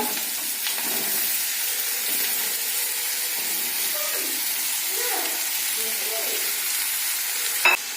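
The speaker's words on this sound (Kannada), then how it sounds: "ಈಗ ನಾವು ಇದಕ್ಕೆ ಆಲೂಗಡ್ಡೆ ಮತ್ತು ಹೀರೆಕಾಯಿನ ಕಟ್ ಮಾಡ್ಕೊಂಡಿದ್ದೀವಲ್ಲ ಅದನ್ನ ಹಾಕೋಣ" Cut potato and ridge gourd drop into a hot oiled pan and fry, a continuous close hiss and sizzle with soft stirring scrapes, ending in a brief sharp clank.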